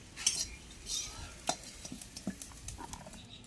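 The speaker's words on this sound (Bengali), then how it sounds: "অনেকক্ষণ হয়ে গেল ঢেকে দিয়েছি, এখন আমি একটু নেড়ে দেবো।" Potato curry (aloo chorchori) stirred in a pot after sitting covered, with a spoon scraping and clinking against the pot in scattered soft strokes over a faint background, no talking.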